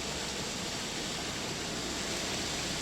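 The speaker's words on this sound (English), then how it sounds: "So this is just a basic waterfall sound" A downloaded waterfall sound effect plays as a steady, dense rush of falling water, loud and unchanging throughout with no voices.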